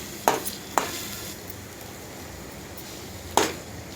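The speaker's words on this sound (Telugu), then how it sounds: "తర్వాత కొంచెం 2 మినిట్స్ బాగా ఆయిల్లో మగ్గనివ్వాలండి" Green chillies and grated carrot fry in oil with a faint, steady sizzle, punctuated by three sharp clinks of a spoon against the pan.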